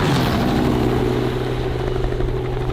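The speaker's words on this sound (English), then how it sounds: "At dawn, the hunting helicopters leave their base." A steady, droning hunting helicopter engine with a low rotor thrum continues loudly without a break for a few seconds, at dawn on a wild hog hunt.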